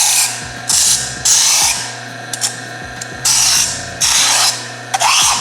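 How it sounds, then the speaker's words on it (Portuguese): Electric sander buzzing against a plastic PET bottle while a bottle rocket is finished, in loud rasping bursts that start and stop repeatedly over a steady motor hum. "Para isso ficar bom, eu vou usar a lixadeira."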